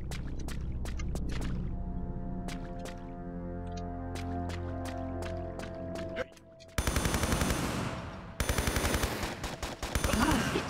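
Rapid, evenly spaced gunshots from Lara's gun in Tomb Raider III, in the Nevada Area 51 level, crack sharply over a sustained musical drone, then give way to denser bursts of fire near the end.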